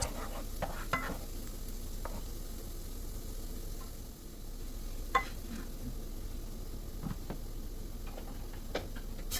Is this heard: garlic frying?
yes